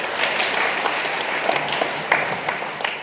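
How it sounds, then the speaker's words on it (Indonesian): An audience at a leadership talk applauds, a dense, even patter of many hands clapping that carries through the whole short stretch with a few sharper claps standing out. "Tepuk tangan untuk kita semua."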